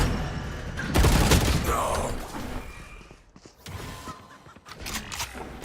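Gunfire in a first-person shooter video game, a loud burst of rapid shots followed by scattered sharper cracks, heard under a player's voice.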